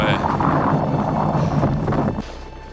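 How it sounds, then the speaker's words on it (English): Cold gusts of wind on the Drakensberg mountains buffet the microphone in a loud, rough roar that drops off abruptly near the end. "Very windy today. Freezing cold gusts."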